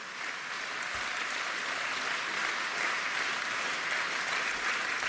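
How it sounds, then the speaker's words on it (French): A large audience at a Nicolas Dupont-Aignan political rally applauding the mayors of France, steady thick roar of clapping from a big hall crowd, continuous and even for the whole stretch. "Et on peut les applaudir bien fort"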